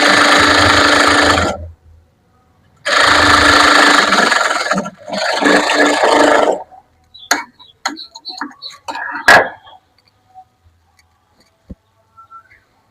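A sewing machine stitches a churidar in three loud, steady bursts of fast mechanical whirring, separated by pauses, followed by sparse sharp clicks and taps as the fabric is handled.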